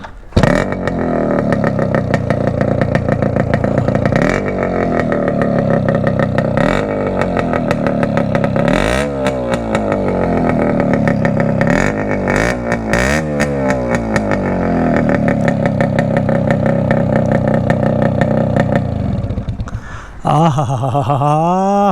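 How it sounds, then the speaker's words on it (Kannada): A kick-started Yamaha RX Concorde two-stroke motorcycle revs through its exhaust, loud and close, with repeated rising throttle blips over a buzzing idle and a final sharp rev near the end. "ಬನ್ನಿ RX ಕಾನ್ಕಾರ್ಡ್ದು ಎಕ್ಸಾಸ್ಟ್ ನೋಟ್ ಹೆಂಗಿರುತ್ತೆ ಕೇಳಿಸ್ಕೊಳ್ಳೋಣ"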